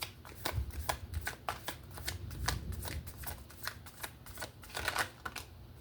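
Tarot cards riffled and shuffled for a reading, a run of crisp, quick flicking bursts repeating steadily up close, with no talking.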